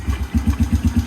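A Suzuki Quadsport Z90 four-stroke ATV engine catches and runs right after starting, a quick, even low putter of pulses, close and fairly loud, with no talking.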